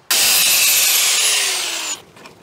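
A power cutting tool slices through a seized brake hose on a BMW 850i V12, a loud, close, steady high-pitched whine lasting about two seconds that slowly drops in pitch before cutting out abruptly.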